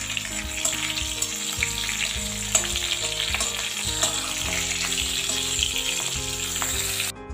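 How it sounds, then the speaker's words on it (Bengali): Spices with asafoetida and green chilli fry in hot oil as a tempering for a watermelon rind curry, giving a loud, steady, close sizzle that runs unbroken throughout with no talking. "ফোড়নটা খুব ভালো করে ভেজে নেব।"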